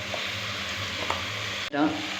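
Steady sizzling of chicken frying in a pan as coriander, cumin, fennel and pepper are stirred in, with soft scraping and stirring sounds throughout, ending with a brief clatter.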